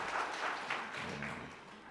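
A church congregation at a Sunday worship service applauds to welcome a newly registered member: faint, distant, steady clapping that forms an even wash of sound throughout, with a brief murmur of voices partway through.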